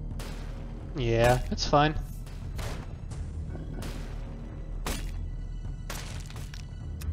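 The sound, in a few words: mortar strike explosions in a Warhammer 40K video game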